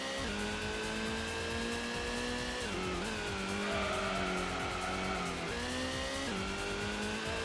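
Race cars roar through the Grand Valley circuit in the Gran Turismo video game, with steady engine drone rising and falling as gears shift, plus tire squeal, continuous and fairly loud throughout.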